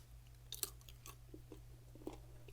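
Dried apple snack chewed close to the microphone, a few soft, sparse crunches and bites over a quiet background hum.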